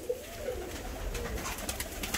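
Soft, rolling coos of Rostov fancy pigeons repeat close by in a coop, low and throaty, with faint rustling in the background.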